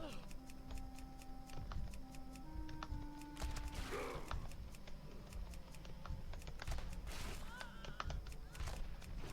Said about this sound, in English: So again, a little bit of spamming keys going on here.